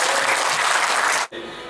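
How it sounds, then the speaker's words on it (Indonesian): Audience applause at a motivational speaking championship, a dense steady wash of many hands clapping that stops abruptly near the end, leaving a quieter room tone. "Tepuk tangan untuk Mas Diki."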